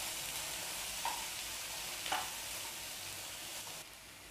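Okra (bhindi) frying in a pan for bhujia, a steady soft sizzle with faint stirring clinks now and then, fairly quiet and close, with no talking.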